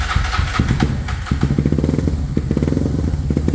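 A Honda CB 300 motorcycle, bored out to 450cc, runs just after starting with a loud, lumpy, uneven idle and rapid close-up popping engine pulses that continue throughout.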